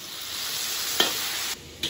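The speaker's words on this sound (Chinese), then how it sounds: "把火锅底料炒散以后加入牛心" Beef heart hits hot oil in a wok with chili, Sichuan peppercorns and hotpot base. It gives a loud, steady sizzle with one quick spatula scrape, then cuts off abruptly near the end.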